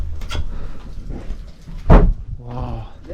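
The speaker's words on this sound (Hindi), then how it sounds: "ये अभी आपका दरवाज़ा हो गया पूरा का पूरा क्लोज।" A heavy old wooden door at a centuries-old watchtower in a Pakistani settlement swings shut with a loud close and thud, with footsteps and movement around it and a voice speaking afterward.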